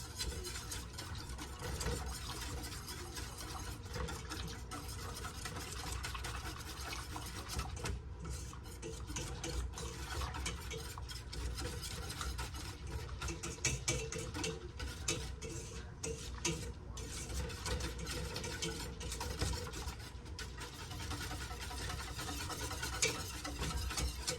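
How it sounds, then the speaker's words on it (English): Flour being whisked into cold mac and cheese sauce in a pot makes a continuous rapid scratchy rattle, steady and close, with no talking. "Quarter cup of flour. And whisk that in there while it's still cold."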